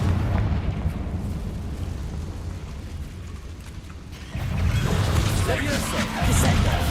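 A Confringo blasting spell from Hogwarts Legacy erupts partway through, a loud explosive burst that fills the mix amid heavy rumbling combat noise, with a second surge near the end and a voice talking over the action.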